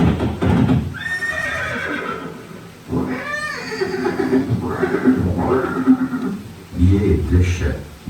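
Maharana Pratap's horse Chetak neighs in a dramatized scene, giving several loud, shrill whinnies and snorts along with hoof clip-clops, mixed with voices.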